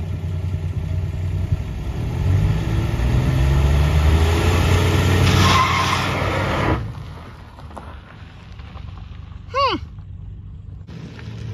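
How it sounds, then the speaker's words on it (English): A 1973 Dodge Dart with a slant six engine roars loudly through a sustained burnout for about seven seconds before the revs drop away, leaving a quieter idle with a brief chirp near the end. "And now for celebratory burnouts,"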